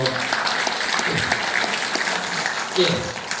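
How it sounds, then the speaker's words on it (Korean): An audience claps steadily throughout, a dense crowd applause with a faint voice mixed in near the end. "박수 한번 쳐주시죠."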